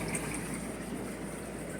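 Water pouring steadily into a fish tank during a water change, a continuous rushing, gurgling flow at moderate loudness with no voices.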